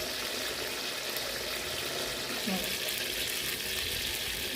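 Sago palm weevil larvae fry in hot oil with a steady, dense crackling sizzle, close and even throughout, with a faint voice in the background.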